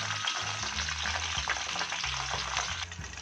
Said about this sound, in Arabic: هنزل بدكر البط كده، جلبته على الناحية التانية عشان احمره برده كويس